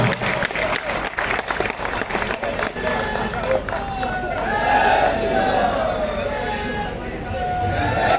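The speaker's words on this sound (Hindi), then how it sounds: "जोरदार तालियां।" Audience applause at a Hindi revolutionary poetry gathering (kavi sammelan) held for Veer Savarkar's birth anniversary, a dense crowd clapping that swells and carries on under scattered cheering and voices.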